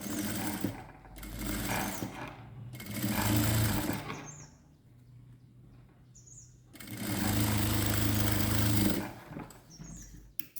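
A sewing machine stitches a silk blouse border in two long runs of steady, close mechanical whirring separated by a quieter pause, with faint chirps in the gaps.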